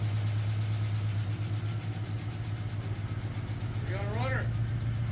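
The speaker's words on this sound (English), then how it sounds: "This is the first time the engine started" Camaro engine idling steadily after starting for the first time following a restoration, a constant low rumble that runs throughout, with a brief voice near the end.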